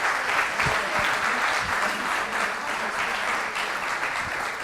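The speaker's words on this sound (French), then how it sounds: "je pense qu'on peut encore l'applaudir quelques secondes" An audience applauds a presenter after a conference talk on e-sport research, with dense, sustained clapping throughout and a few voices faintly mixed in.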